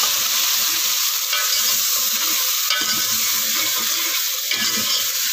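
Tomatoes, garlic, ginger, green chilies and spices fry in a pan over golden onions with a loud, continuous sizzle, close up. Occasional stirring scrapes break through the hiss.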